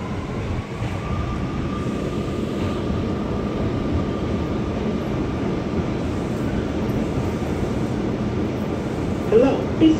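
Inside an R179 New York City subway car on the A train between Grant Avenue and Jay Street, a steady low rumble of wheels and motors continues throughout, with faint squeals near the end.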